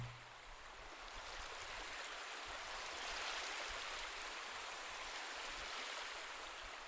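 Gentle ocean waves wash steadily along a beach in a soft, continuous hiss that swells slightly and eases, heard alone at low level.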